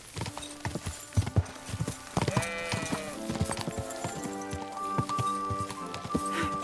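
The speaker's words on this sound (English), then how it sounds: "Don't you know how to ride a horse?" Horse hooves clip-clop at a riding pace in the medieval game Kingdom Come: Deliverance II, a steady patter of close, moderately loud steps mixed with game sounds and a brief sheep-like bleat, no talk.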